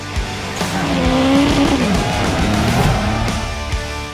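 Vintage race cars at the American Speed Festival howl past with rising and falling engine notes, loud and close, with tire squeal and overlapping engine roar throughout.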